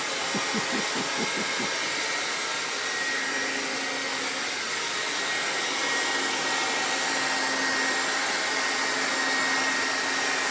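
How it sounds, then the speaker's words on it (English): A hair dryer drying paint on a carving blows with a steady, loud whooshing hum, holding constant throughout with no voices. "I don't have the patience to wait for the paint dry, so I use the air dryer."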